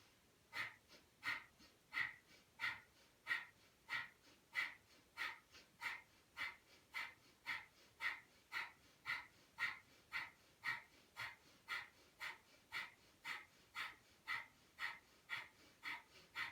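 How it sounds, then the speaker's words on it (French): Breath of fire yoga breathing: rapid, rhythmic forceful exhalations through the nose, about one and a half per second, evenly spaced and close, with no talking. "on commence la respiration de feu"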